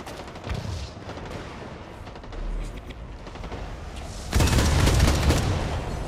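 Video game gunfire at a firefight near an extraction point: a steady bed of mixed shots and low booms that swells into a loud, dense volley in the final second and a half.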